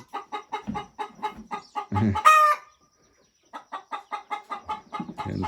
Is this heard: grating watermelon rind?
no